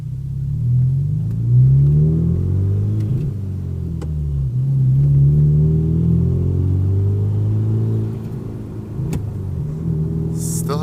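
A car engine revs and shifts through gears at close range, its pitch rising and dropping at each change, with a steady low rumble throughout and no talking.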